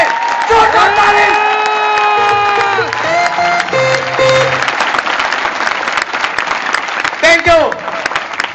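Loud crowd applause with some cheering at a company celebration event stage in Kanpur, steady and dense for several seconds over music and a few voices.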